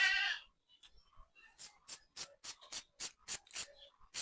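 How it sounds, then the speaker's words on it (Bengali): A knife slices an onion into round rings for chicken khichuri, giving a quick, even series of about ten crisp cuts close to the listener after a short opening noise. "গোল গোল করে কাটছি পেঁয়াজ"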